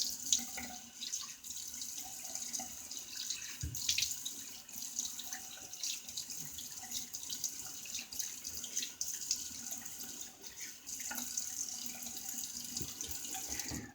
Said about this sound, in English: Let me get a rinse here.